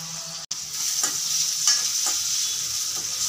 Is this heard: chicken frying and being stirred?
yes